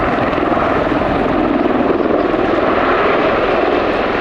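A Boeing V-22 Osprey tiltrotor flies at the Royal International Air Tattoo. A loud, dense, pulsing rotor and engine roar holds steady and unbroken throughout.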